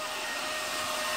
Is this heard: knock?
no